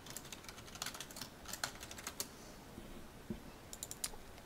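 Quick, light keystrokes on a computer keyboard come in uneven bursts of clicks while a lot name is typed into a search box in The Sims Online, close and clear with no talk.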